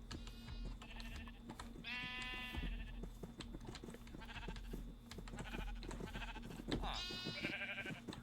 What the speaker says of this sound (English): You. Foolish sheep, come in.